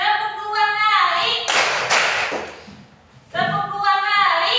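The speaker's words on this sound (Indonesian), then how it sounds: "Tepuk 1 kali. Tepuk 2 kali." Children in a class play a clapping game: two sharp hand claps land between stretches of chanting voices, close and clear.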